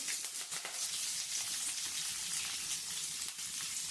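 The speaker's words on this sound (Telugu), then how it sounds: "ఇప్పుడు ఇందులోకి ఎర్రగడ్డ, ఒక 2 ఎర్రగడ్డలు, కరివేపాకు, ఎండుమిరపకాయలు వేస్తున్నానండి." Onions, curry leaves and dried red chillies frying in hot oil, a steady dense sizzle with scattered sharper crackles, close and continuous with no voices.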